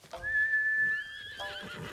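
A horse neighs in the video game Ghost of Tsushima, one loud, drawn-out whinny with a falling tail. It sounds close and stands alone, followed by faint game ambience.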